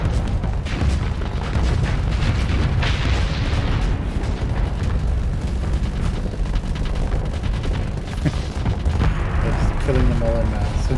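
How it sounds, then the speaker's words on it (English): Flak cannons in the Starsector space combat game pound away at enemy fighters in a dense, continuous barrage of loud booms and bursts, layered with battle noise throughout. "As all of the flat cannons start killing all their fighters."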